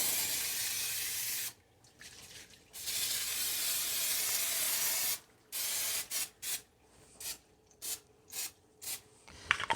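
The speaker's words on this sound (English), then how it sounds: "I'm going to get a little bit of my spray here" Cooking spray hisses from a can onto a 9 by 13 inch baking pan in a long burst, pauses, sprays again, then finishes with several short quick spurts.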